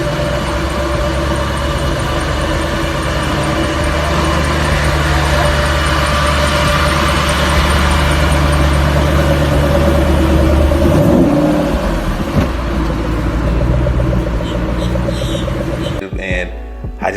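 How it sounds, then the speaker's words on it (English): A 2012 Shelby GT500 rolling out of a dealership, its engine a steady, heavy low rumble that swells gently and then fades away, with voices talking over it nearby. "I recorded it driving out of the dealership"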